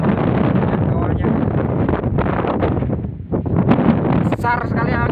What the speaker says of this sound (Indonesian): Besar sekali anginnya tuh.